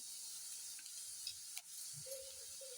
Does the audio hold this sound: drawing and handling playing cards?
no